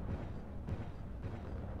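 Rumbling explosions keep going off in a mecha battle, a steady low roar punctuated by a few sharper blasts and bursts over a short stretch, no talking.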